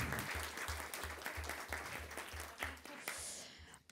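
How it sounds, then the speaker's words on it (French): An audience at a francophone literary event applauds the scriptwriters, a few seconds of steady clapping from a modest crowd that thins and fades toward the end. "à savoir Laura et Delphine, qui peuvent s'avancer pour être applaudies"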